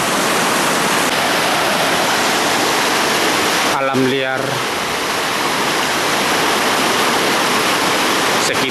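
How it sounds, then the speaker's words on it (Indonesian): Steady roaring rush of falling water at Aek Godang waterfall, loud and broadband, with a brief spoken phrase cutting through midway. "Sebagai jatuhan air terjun ini"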